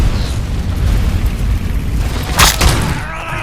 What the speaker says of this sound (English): Where the hell did that grenade land?